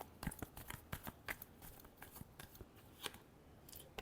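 Tarot cards riffle and slap together in a quick shuffle, with crisp papery bursts and light taps, close and fairly quiet with no voice over them.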